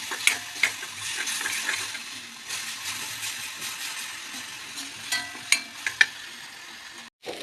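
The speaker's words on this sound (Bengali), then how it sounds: "মশলা কষানো হয়ে গেছে।" Chili powder, turmeric and salt fry with a splash of water for a vegetarian pointed gourd curry, a steady close sizzle broken by spoon stirring and a few sharp clinks against the pan.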